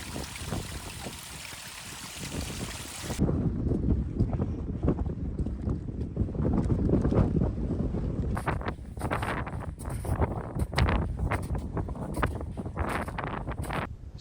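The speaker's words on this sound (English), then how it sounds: "it's very windy up here" Strong mountain wind buffets the microphone near Dulyn Bothy with a loud, continuous rushing roar, shifting in intensity, with rain setting in.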